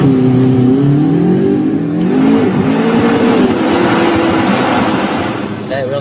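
A sports car engine in sport mode revs up and down in rising and falling sweeps, loud and fairly close, with people talking over it.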